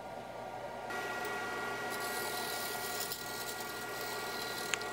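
A lathe spins a maple blank at slow speed while a turning gouge cuts, giving a steady broadband whir and scraping hiss with a faint rhythmic hum and occasional ticks, with no one speaking.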